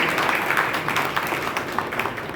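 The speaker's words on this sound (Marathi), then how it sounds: "आपण टाळ्या वाजून अभिनंदन" Audience applause at a Marathi public event honouring a women's and children's hospital, a steady wash of clapping that carries evenly through the whole stretch with no voices rising above it.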